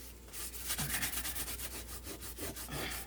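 Gooey glue is rubbed off a cutting mat in quick, faint back-and-forth scrubbing strokes, close and continuous for a few seconds.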